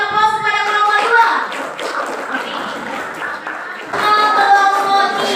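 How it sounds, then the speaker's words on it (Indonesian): A classroom audience of students claps for a group presentation in a civics class, steady mixed handclaps filling the room throughout, dipping slightly in the middle and swelling again near the end. "kita berikan aplaus kepada kelompok 2"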